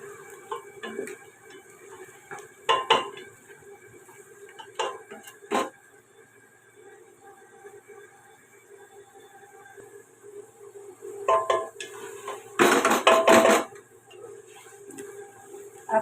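Beef malai boti with ginger-garlic paste in a light gravy being fried and stirred in a pot, with intermittent metallic clanks and scrapes of a spoon against the pan and a louder burst of clattering near the end.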